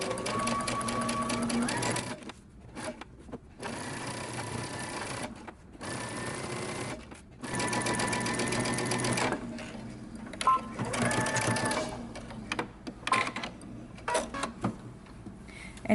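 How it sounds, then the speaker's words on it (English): A sewing machine stitches a seam on a Simplicity romper with backstitching, running in several loud bursts separated by brief stops, close and alone, with a few short starts toward the end. "going to take you to the sewing machine and we're going to stitch from the center in one direction"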